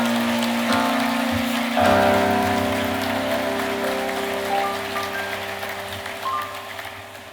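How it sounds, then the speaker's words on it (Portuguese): A church audience applauds the actors after a theatre performance about King David's sin, a dense, steady wash of clapping over sustained musical tones that slowly fades. "Vamos aplaudir estes queridos."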